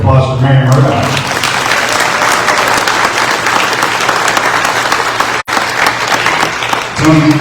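Sustained audience applause at a chamber of commerce banquet honoring Mary Murdoch, a dense, steady wash of clapping from a large room that fills the whole stretch before briefly cutting out.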